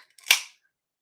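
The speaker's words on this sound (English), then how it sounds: "that's the sound of a cold snack being open" A single sharp crack as a cold snack can is popped open, brief and crisp, standing alone in near silence.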